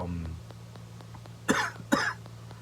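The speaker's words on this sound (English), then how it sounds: "That was a legit cough that I just used at the same time" Two sharp coughs close together over a steady low hum, fairly near and loud, with no one talking.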